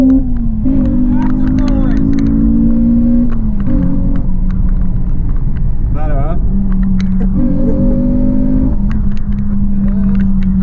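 A 2005 Honda Civic EP3 Type R engine fitted with a TSS induction kit drones and rumbles loudly and steadily, its pitch rising and falling as it pulls through revs, with a voice talking over it.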